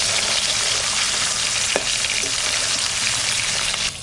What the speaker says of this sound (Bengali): মাছটা হালকা ভাজা দেবো